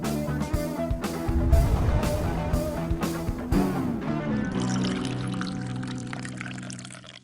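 Water poured steadily into a pour-over coffee maker with a metal filter, a continuous close trickle and splash with faint clinks, thinning toward the end.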